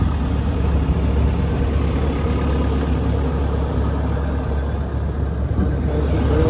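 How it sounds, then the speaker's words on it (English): A JCB JS 160 N LC excavator with a hydraulic thumb idles nearby, its diesel engine giving a steady, even low rumble that holds at a constant level throughout. "The motor sounds good."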